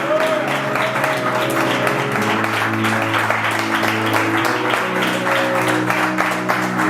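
A church congregation applauding continuously and loudly, the clapping mixed with a sustained musical tone and voices throughout.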